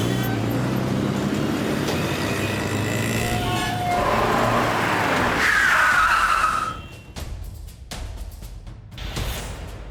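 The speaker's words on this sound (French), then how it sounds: "Pourquoi il a arrêté la voiture?" A car brakes to a stop, heard as a loud rumbling drive that ends in a rising tyre squeal before the noise drops away, followed by a few sharp knocks and thuds.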